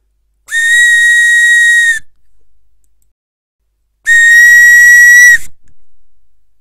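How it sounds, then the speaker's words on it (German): 3D-printed recorder mouthpieces blown alone: two steady, clear whistling tones, each held about a second and a half with a pause between, close and loud with bright overtones. "Nach dem Druck habe ich zuerst einmal die Mundstücke ausprobiert, ob sie überhaupt einen gescheiten Ton abgeben."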